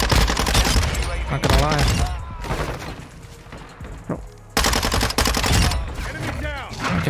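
Rapid bursts of Minibak SMG fire from a gold-camo gun in Modern Warfare 2 multiplayer, loud and dense, cutting in and out with short pauses while someone talks over the shooting.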